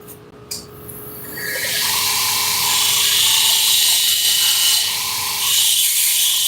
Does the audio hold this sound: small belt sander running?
yes